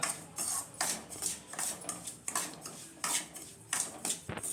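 Semolina (rava) being roasted over a medium flame for rava laddu, with a spoon scraping and tapping the metal pan in a steady rhythm of short strokes, quiet and close, with no talking.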